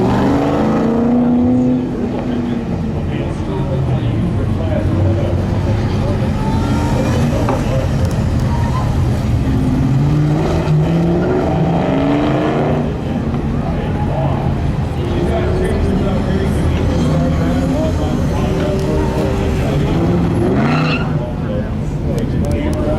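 A race car is driven around an autocross course, its engine note rising and falling through the run, steady and fairly loud for the whole stretch, with people talking over it.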